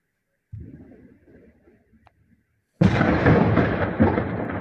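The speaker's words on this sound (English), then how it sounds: "letting us hear the sounds of air attacks and also explosions occurring throughout the outer perimeter of the city" A low distant rumble fades, then a sudden loud blast from a drone air attack on the outskirts of Moscow bursts out and roars on as a heavy, sustained boom.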